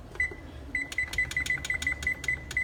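Kitchen oven timer being set, a rapid series of about a dozen sharp, evenly spaced electronic beeps or clicks, close and clear, with no talking.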